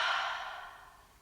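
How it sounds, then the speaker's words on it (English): A slow, soft exhale during a guided children's mindfulness breathing exercise, a breathy airy hiss that is strongest at the start and fades gradually over about a second, heard alone with no talk. "and breathing out."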